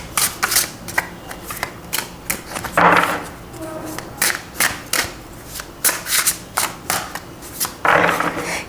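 Tarot cards being shuffled by hand, a steady series of crisp riffling bursts and soft slaps repeating roughly every half second, close and loud, with occasional fuller riffles standing out.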